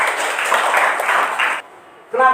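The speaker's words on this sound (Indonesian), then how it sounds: "Tepuk tangan sekali." A burst of hand clapping from a group of students in a floor gymnastics class, dense and steady for over a second, then a near-silent pause before a voice begins.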